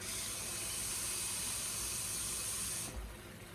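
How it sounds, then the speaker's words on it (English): Liquid poured into a pot of chicken while cooking gives a steady, fairly close hissing pour that stops abruptly near the end. "I'm going to add now some liquid, because at this point now I'm going to cover it up and let it cook"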